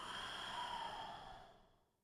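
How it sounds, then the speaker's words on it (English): A long, soft exhale during a mobility and stretching class, a breathy sigh that holds steady before tapering away into silence, with no talk over it. "Breathing out."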